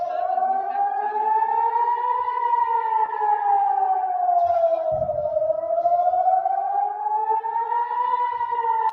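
Civil defense siren wails loud and steady, its tone slowly rising and falling in a long sweeping cycle, with a brief low thump partway through and no speech.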